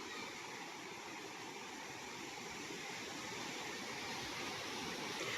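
A river flows steadily along the edge of a titled farm lot, giving a continuous broadband rush of moving water that stays even and close throughout, with no voices over it.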